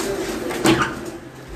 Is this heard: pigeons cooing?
yes